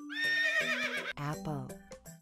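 A horse whinnies loudly in a shrill, wavering call in a children's animal video game, followed by a voice speaking briefly.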